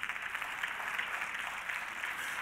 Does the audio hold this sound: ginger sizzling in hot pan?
no